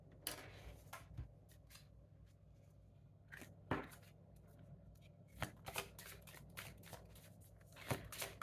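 Spirit animal oracle cards are shuffled by hand in a quiet room, giving repeated crisp riffling bursts and soft card slaps at irregular intervals.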